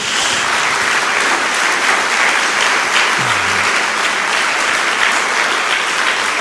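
Church congregation applauding during a sermon, a loud, sustained roar of many hands clapping that fills the room evenly, with a brief low tone sounding faintly underneath partway through.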